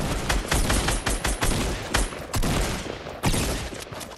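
Rapid bursts of SCAR assault rifle fire in a Fortnite match, loud and close, with dense overlapping shots and short pauses between volleys.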